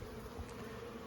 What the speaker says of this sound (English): there's bees all the way across